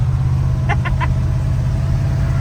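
A 1974 Chevy C20 Custom Deluxe truck, run again after sitting for five years and still misfiring, gives a loud, steady low engine rumble with a few brief chirps over it.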